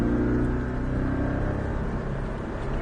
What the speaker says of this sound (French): une fois que tu as ton volant droit, tu accélères à fond